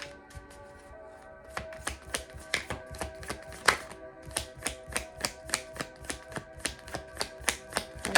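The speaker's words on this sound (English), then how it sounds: "I'm just going to pull one card real quick." Tarot cards shuffled and one pulled from the deck: a run of quick crisp riffling taps, then steady rhythmic card snaps repeating close by at a moderate level, with no talking.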